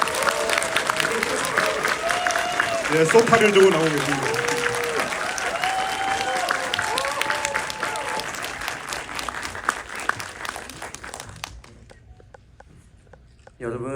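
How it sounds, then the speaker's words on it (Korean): A cinema audience applauds steadily as director Makoto Shinkai comes out for a talk event after a screening of Suzume, with an announcer talking over the clapping before it fades into near silence. "큰 박수로 맞이해 주시죠."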